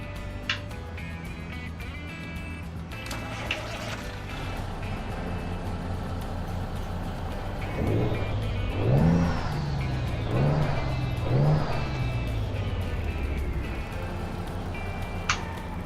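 Heard from outside, a 1974 Kenworth W900A truck in American Truck Simulator idles with a low, steady drone, then revs three times in rising, rumbling swells before dropping back to idle, with a few faint clicks.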